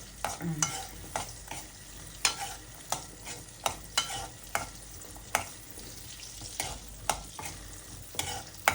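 Palada payasam being stirred in a pot on the stove, with a regular series of sharp spoon scrapes and knocks every half second or so over a soft simmering sizzle, close and fairly quiet, no talking.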